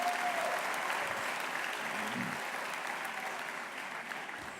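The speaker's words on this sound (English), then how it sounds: "let's give him another round of applause and thank him for his hard work" An audience at a justice teach-in conference gives a sustained round of applause, a fairly quiet, even wash of many hands clapping that holds steady and thins slightly toward the end.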